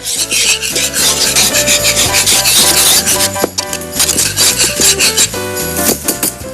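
A spoon or whisk scrapes and rubs steadily around a pot of agar-agar pudding mixture, loud and close, in quick rhythmic strokes over a musical backing with no talking.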